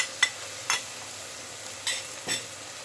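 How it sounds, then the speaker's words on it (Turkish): Flour roasts in a pan while a spoon stirs it, with a faint steady sizzle and four or five distinct scraping strokes spaced irregularly, close and fairly clear. "Unumuzu da şöyle bir kokusu gidene kadar bir karıştıracağız."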